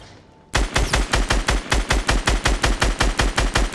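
Rapid automatic gunfire in the Fortnite battle royale video game, a loud, evenly spaced burst of about fifteen shots in a steady rhythm following a quiet moment.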